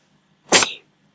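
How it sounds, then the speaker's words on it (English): A single human sneeze bursts out loud and close in a quiet room, sharp at onset and trailing off quickly, with nothing else around it. "I'm gonna sneeze. I'm gonna sneeze."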